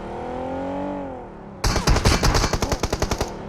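Automatic gunfire in the mobile battle royale PUBG Mobile: after a stretch of low engine hum, a loud burst of rapid shots starts abruptly and runs as a close, steady rattle of about a dozen evenly spaced cracks.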